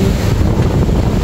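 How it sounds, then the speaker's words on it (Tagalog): Loud, continuous roar of strong surf at a Cancun beach and wind buffeting the microphone, a dense rushing wash without any talking. "Grabe, lakas ng alon no."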